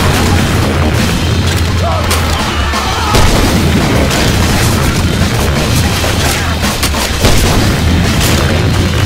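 Grenade launcher explosions in Left 4 Dead 2, with heavy booming blasts and a dense, loud, continuous wash of battle noise throughout.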